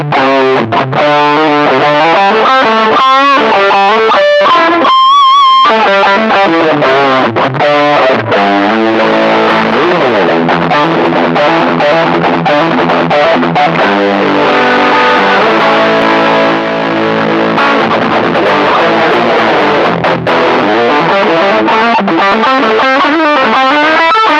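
Overdriven electric guitar through a Xotic AC Booster pedal used as a gain boost plays loud, driving riffs and sustained chords with a gritty, boosted tone, continuous throughout with no talking.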